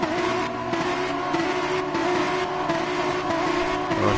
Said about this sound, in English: The revs are rising.